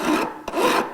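A metal file rubs against the edges of a gold ring with a rasping, scraping sound in two close strokes, split by a brief pause, and no talking.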